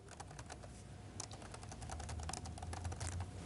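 Fast, steady typing on a computer keyboard, close and soft, with many light key clicks and no voice.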